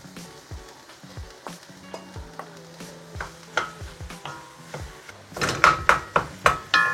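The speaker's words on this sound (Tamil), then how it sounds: "இப்போ நாங்கள் இதுக்குள்ளே இந்த உருளைக்கிழங்கை போட்டு மிக்ஸ் பண்ணுவோம்" A spatula scrapes and knocks steadily as boiled potatoes are mixed into a samosa filling in a pan. The strokes are rhythmic and close, with a light sizzle, and they grow louder and sharper toward the end.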